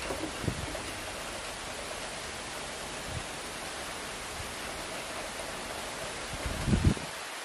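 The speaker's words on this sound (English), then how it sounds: "It started raining pretty hard." Heavy rain falls outdoors as a steady, dense hiss at moderate level, with a few low thumps and bumps scattered through it.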